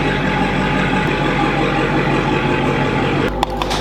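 Engine of a Dodge Challenger Hellcat widebody car, heard as a loud, steady, rumbling idle that runs throughout, then cuts sharply near the end, leaving a few faint knocks.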